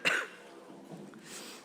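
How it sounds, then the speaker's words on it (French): A woman at a French town council meeting gives one short cough near the microphone, followed by faint sniffling and quiet room noise. "vous m'excusez d'avance si je tousse et si je renifle un peu"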